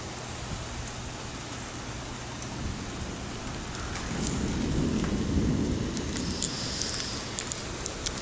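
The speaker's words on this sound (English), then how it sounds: "the rain like calmed down for some reason" Heavy rain pours steadily during an October thunderstorm in McKinney, with a low rumble of thunder swelling midway beneath the constant hiss of the downpour.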